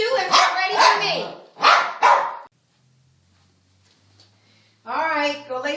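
Dogs barking close by: two bursts of loud, harmonic barks in quick succession, a few seconds of near silence, then another loud burst.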